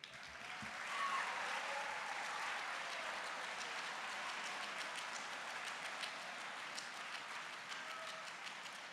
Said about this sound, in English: Can we have another round of applause for Mr. Gutierrez, please?